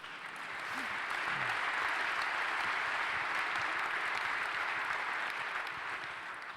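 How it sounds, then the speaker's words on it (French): Sustained, dense applause from a conference audience at a French public-affairs event, swelling quickly and holding at a steady, moderately distant level to the end. "Ça mérite quelques applaudissements."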